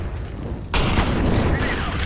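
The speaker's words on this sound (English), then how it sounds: "Flashbang out." A flashbang grenade goes off in the online shooter CS:GO on the de_cache map: a sudden loud burst at about three quarters of a second, then a sustained bright ringing wash that lasts to the end.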